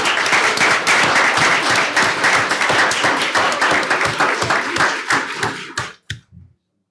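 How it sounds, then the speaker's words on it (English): Clapping from a room of people at a school governing board meeting, honoring a teacher; dense, close applause that thins to a few last claps and then silence. "Let's give her a round of applause."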